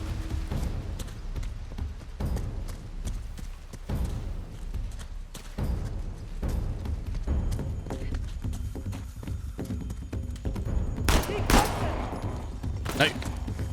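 Gunfire in the video game Uncharted: The Lost Legacy, steady crackling bursts running through a busy firefight, with a sharp louder volley near the end, mixed with game noise and voices.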